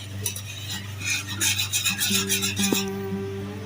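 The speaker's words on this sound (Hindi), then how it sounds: "अच्छी तरह मिक्स करेंगे और इसको हल्की आंच पे 5 से 6 मिनट तक पकाएंगे" A cornflour and pineapple mixture for a pineapple delight dessert is stirred with a spoon in a pan over low heat. Continuous close scraping and swishing strokes come through with no talking.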